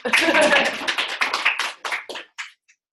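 Classroom clapping from a small group of children, a short burst of claps that thins out and stops after about two seconds, a few last scattered claps trailing off.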